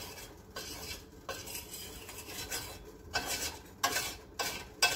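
A spoon scrapes and stirs around a metal pot of boiling sugar caramel in steady strokes, with soft bubbling and occasional louder clinks against the sides.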